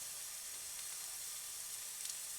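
Food searing in a hot pan, a steady bright sizzle and hiss holding evenly from start to finish, close and fairly loud with no voices.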